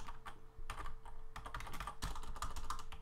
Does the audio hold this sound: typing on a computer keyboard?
yes